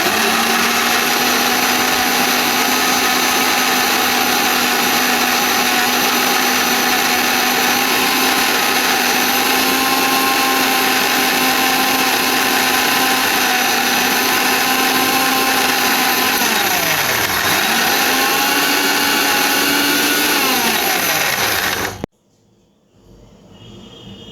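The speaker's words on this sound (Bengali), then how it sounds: "দিয়ে দিচ্ছি ভিনেগার ব্লেন্ড করে নিলাম" A blender whirs steadily as it blends mayonnaise with soybean oil and vinegar, a loud, even motor drone that sags in pitch twice near the end before switching off abruptly into quiet room noise.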